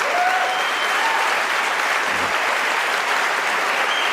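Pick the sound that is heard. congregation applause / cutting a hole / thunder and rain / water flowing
congregation applause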